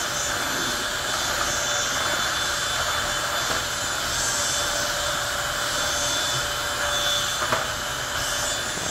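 A Bissell 3-in-1 turbo vacuum cleaner runs in a hotel room, a steady, loud whining roar with small shifts in pitch as it passes over the floor, continuous and close.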